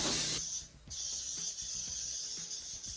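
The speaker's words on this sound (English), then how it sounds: "We're gonna go ahead and spray our waffle maker really well." Cooking spray hisses onto a waffle maker in a home kitchen, one steady close burst in the opening half second followed by quieter clicks and handling noises.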